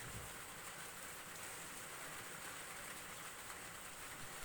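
Steady, continuous monsoon-season rain in a village, a dense even hiss of falling water with no breaks, close and moderately loud, no voices.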